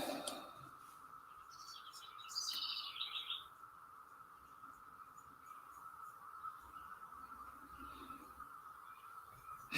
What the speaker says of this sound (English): there are many birds.